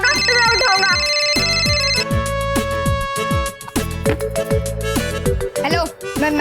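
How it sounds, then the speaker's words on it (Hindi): A melodic phone ringtone plays loudly and continuously, a repeating electronic tune of bright synth notes and beats, with a voice briefly speaking over it. "हाँ, एक मिनट दादाजी, अगर बालवीर का फोन होगा तो मैं उठाऊंगा।"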